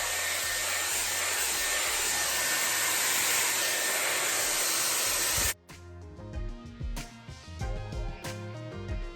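A Dyson Airwrap hot air styler blows with a loud steady whoosh for about five seconds, then cuts off, leaving quieter clicking and handling noises.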